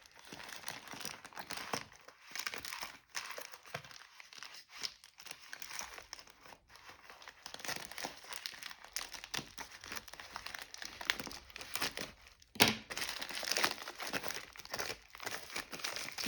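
AliExpress package wrapping with bubble wrap being opened, producing quiet, continuous crinkling and rustling of plastic with a sharper tearing crackle near the end.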